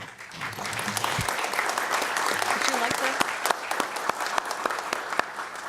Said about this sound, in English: For Mr. Oder's generous contributions, we applaud him and his efforts.